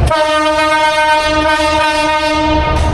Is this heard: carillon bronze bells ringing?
no